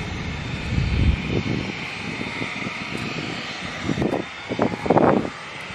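A small propeller plane's engine drones steadily at a flight school, with louder rumbling surges toward the end; close and fairly loud, with no speech.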